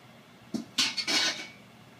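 Cooked diced potatoes tumble from a container back into a pot of New England clam chowder, a brief cluster of soft splashy thuds and clatter lasting about a second.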